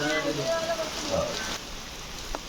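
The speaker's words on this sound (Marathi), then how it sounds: "पाऊस आता खूप आहे" Heavy rain at a farmhouse falls as a steady hiss over the whole stretch, with short bits of voice and a few thuds heard early on.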